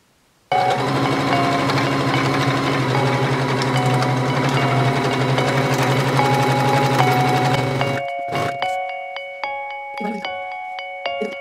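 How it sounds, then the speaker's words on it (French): Sewing machine stitching both sides of a child's Elsa Frozen costume, a steady mechanical whir running continuously for about eight seconds before stopping, followed by a few scattered clicks and handling sounds. "Et je vais coudre les 2 côtés."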